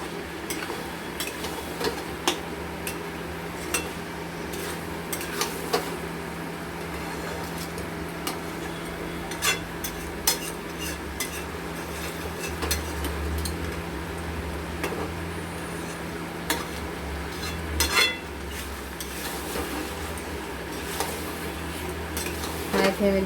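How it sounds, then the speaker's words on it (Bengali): Chicken and capsicum being sautéed over high heat, with frequent metal spoon clatters and scrapes against the pan over a low sizzle and steady hum, repeating throughout. "হাই ফ্লেমে দিয়ে আমরা 2-3 মিনিট একটু কষে নেব।"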